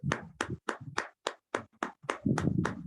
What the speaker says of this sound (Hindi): हम तालियों के साथ उनका स्वागत करेंगे